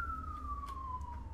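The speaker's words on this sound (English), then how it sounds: "I hear sirens." A single siren tone in the video game Space Engineers, slowly sliding downward in pitch, fairly faint over a low rumble with a few soft knocks.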